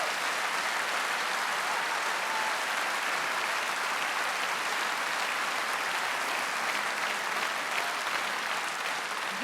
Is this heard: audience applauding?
yes